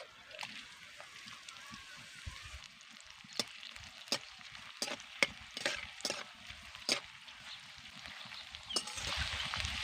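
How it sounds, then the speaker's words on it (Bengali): Chopped onions frying in hot oil with dried red chillies and bay leaves, for a Bengali pumpkin curry: a steady hiss with repeated sharp scrapes and clinks of a spatula stirring the pan, close and alone. "এবার দিয়ে দিচ্ছি কেটে রাখা পেঁয়াজ"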